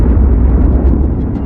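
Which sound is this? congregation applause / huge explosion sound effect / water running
huge explosion sound effect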